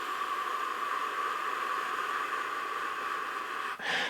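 A focused stream of breath blown steadily for brass practice, making a soft, even, wind-like hiss that holds for several seconds before a brief break and resumes.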